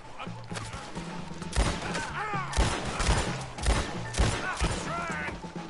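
Rapid gunfire rattles through a shootout in the Western video game Red Dead Redemption 2, with repeated shots and impacts around a wagon under fire, while voices shout over the din.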